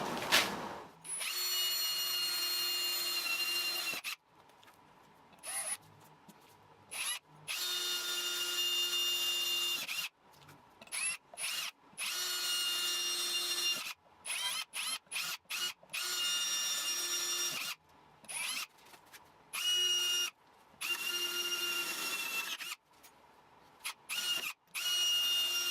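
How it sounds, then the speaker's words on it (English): A power drill bores holes into an iMac stand in repeated bursts, loud whining runs of a few seconds each separated by short pauses and quick stop-start triggers, close to the microphone. "So next I'm going to drill the holes"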